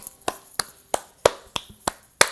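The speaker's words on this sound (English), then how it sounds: "Clap your hands like mine. Clap, clap, clap." Seven sharp, evenly spaced hand claps from children in a morning circle at story time, close and distinct with no talking over them.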